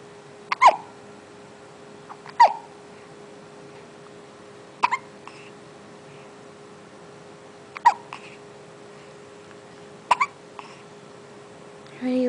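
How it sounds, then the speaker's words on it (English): A baby hiccups about six times at uneven intervals of roughly two to three seconds, each hiccup a short, soft, close-up catch over a faint steady background hum. "You got the hiccups."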